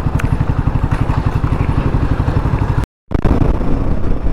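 A motorcycle rides a quiet highway at about 80 to 90 km/h in mild weather, its engine pulsing loud and close under steady wind rush, with a brief cutout near the end.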